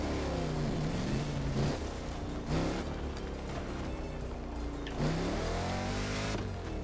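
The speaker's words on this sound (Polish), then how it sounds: "odpalamy Monstera i jedziemy na szczyt wulkanu" A Monster vehicle engine in The Crew Motorfest drones steadily while driving up toward a volcano summit, with pitch sweeps as it revs and shifts at about two and five seconds, close and continuous with no talk.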